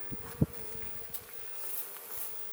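Honey bees hum faintly and continuously around an opened beehive during an inspection, a soft low buzzing with a few light knocks and clicks from handling.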